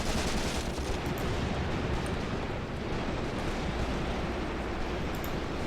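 Artillery and tank fire in the WW2 wargame Graviteam Tactics forms a dense, continuous rumbling roar of distant blasts and shooting that runs unbroken throughout.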